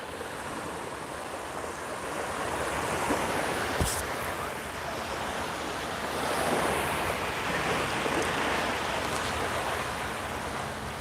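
Ocean waves wash continuously onto a beach at Cape May, New Jersey, at sunset with a steady roar, with some wind buffeting the microphone.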